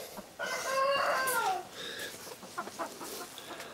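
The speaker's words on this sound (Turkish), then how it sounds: "Bu da Japonez'in horozu" A Japanese-breed rooster lets out one short, strained crow near the start, followed by scattered clucks from chickens in a muddy coop yard.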